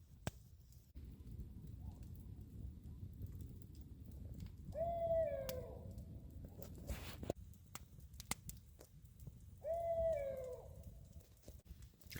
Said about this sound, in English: So cool, that owl. It's pretty close.